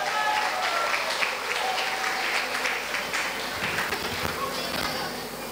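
Audience applause fills a church silver jubilee cultural evening, a steady wash of many clapping hands that holds loud and even throughout, with a little crowd murmur beneath.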